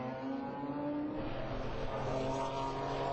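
BMW race cars, a black M3 and a turbocharged 3-litre E30, racing in an open-class series: engines hum and drone at moderate distance, a steady layered roar rising slightly in pitch, with no talk over it.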